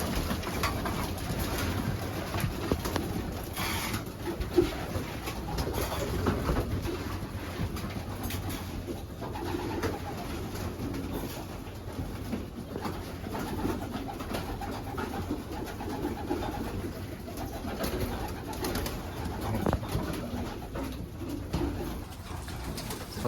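Young pigeons, about forty birds, cooing in a loft section that has netting for a ceiling. Soft, overlapping coos continue steadily throughout over a low background hum, with no talking.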